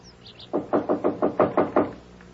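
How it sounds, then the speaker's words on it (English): A fist hammering on an apartment door, seven loud, evenly spaced heavy knocks in quick succession, close by and alone. "some guy was hammering on the door to the apartment next door"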